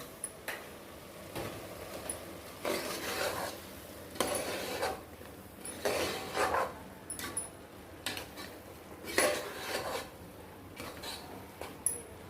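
Mushrooms sauté in a pan with soft sizzling and scraping, with intermittent clinks and stirring noises at a moderate, uneven rhythm.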